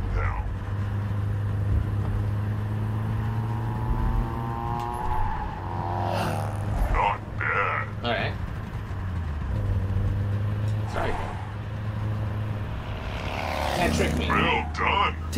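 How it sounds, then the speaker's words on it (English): Cars approach in the blindfolded driving game Blinddrive, a steady engine drone with several passing whooshes that swell and fade, heard under excited talking. "Listen for approaching cars."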